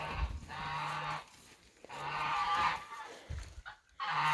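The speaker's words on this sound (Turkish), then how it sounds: "beş kaz dört ördek var" Five geese and four ducks honk and quack in long overlapping bursts with short pauses between, fairly close and loud, and no talking.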